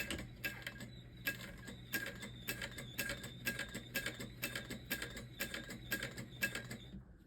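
A sewing machine turned slowly by hand crank stitches along a drawn line at a 4.5 stitch length, giving a steady series of close mechanical clicks and clatters in an even rhythm, quiet and alone.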